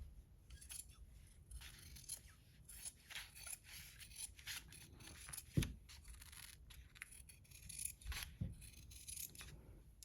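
Steady snipping of scissors cutting, quiet and close, with repeated soft blade clicks and a couple of sharper knocks, no talking.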